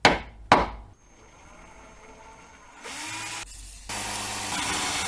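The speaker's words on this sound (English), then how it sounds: "So it's time to drill and tap the broken slug." A drill works on a broken bolt slug in a rusty car chassis. Two sharp knocks come first, then a quiet stretch, then the drill runs in two steady, building bursts.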